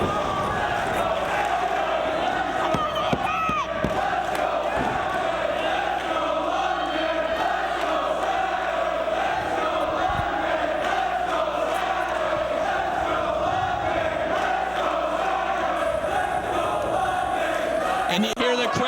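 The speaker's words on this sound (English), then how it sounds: "And you hear the crowd split 50-50 behind both men." A dense arena crowd at a professional wrestling match between Paul London and AJ Styles roars and chants continuously, loud and sustained with rising swells, while a commentator talks over it.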